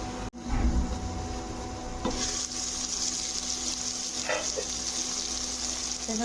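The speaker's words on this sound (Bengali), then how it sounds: "এবারে ঢাকা দিয়ে একটু ভেজে নেব" Potatoes, peas, cauliflower and spinach sizzle steadily in a covered pan, a constant close frying hiss with a few brief clinks and stirring sounds, no speech.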